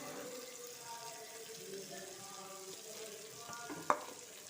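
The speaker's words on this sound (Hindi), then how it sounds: "देखो मु काजू पेस्ट पकई देती" Cashew paste frying in a pan for a paneer curry made without onion or garlic, a soft steady sizzle with faint stirring and one brief sharp clink near the end.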